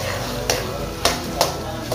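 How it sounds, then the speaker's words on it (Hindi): Potatoes cut into triangles fry in oil in a pan for a dhaba-style aloo dish, a steady close sizzle broken by four sharp clinks of a spatula against the pan, spaced roughly half a second apart. "जब तक ये अपना कलर नहीं छोड़ देते तब तक हम इसको फ्राई करते रहेंगे।"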